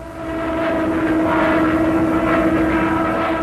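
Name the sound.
Stuka dive bomber aircraft flying over Belgium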